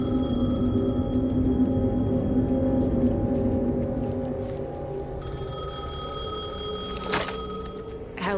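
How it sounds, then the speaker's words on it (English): In the Alan Wake 2 video game, a payphone rings with a steady, tonal electronic trill that carries on for several seconds, broken by brief clicks and a sharp knock near the end, with no voices. "The payphone was ringing."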